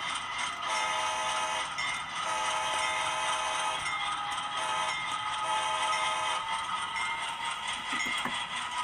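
A ScaleTrains C40-9 model locomotive hums steadily along its track, a continuous close motor whine with a faint rhythmic pulse and no one talking.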